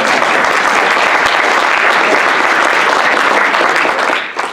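Audience applause at a political speech, loud, close and sustained clapping from a crowd that thins out and fades in the final half second.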